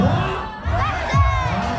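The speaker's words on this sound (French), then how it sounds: "On compte jusqu'à 3 et on hurle battle" An audience at a dance battle event shouts together in one loud, sustained burst of voices after a countdown, the crowd noise filling the space.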